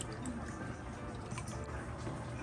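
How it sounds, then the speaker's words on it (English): Barbecue sauce gravy is poured over a chicken roasting in a pan, making a continuous wet dribbling and spattering that stays steady and close throughout. "I'm just going to now pour this over to baste my chicken, and also to get some in that bottom of the pan."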